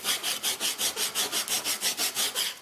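Sandpaper rubbed back and forth over a split wooden axe handle from a flea-market axe, about a dozen even rhythmic strokes, close and steady with a raspy hiss on each pass.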